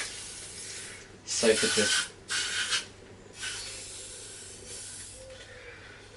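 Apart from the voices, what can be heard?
spraying WD-40 onto a screw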